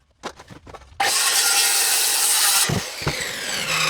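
A power saw cuts through a plywood block while rebuilding a shower niche, starting after a few light knocks and running loud and steady for nearly two seconds before winding down with a couple of thumps.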